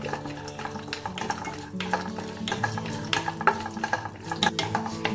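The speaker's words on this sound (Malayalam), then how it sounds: "നെയ്യൊന്ന് ചൂടാകുമ്പോഴേക്കും നമുക്ക് കുറച്ച് കശുവണ്ടി ഇട്ട് കൊടുക്കാം." Cashews fry in hot ghee in a pan for a kaipola sweet. A soft, steady sizzle sits under the clink and scrape of a spoon stirring the nuts, all close and fairly quiet.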